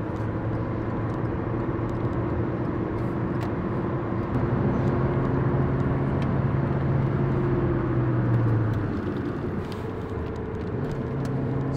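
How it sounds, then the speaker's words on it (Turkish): A continuous low drone and hum from a car moving at about 120 km/h, with a steady tonal whine from a worn front-right wheel bearing rising and falling slightly over road noise. "Sağda bilye ses var. Bilye sağ önde ses var."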